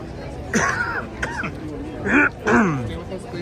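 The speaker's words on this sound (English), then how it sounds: "I still got a bit of a cough going here" A man with a lingering cough at Disneyland coughs and clears his throat several times in short separate bursts, close and fairly loud.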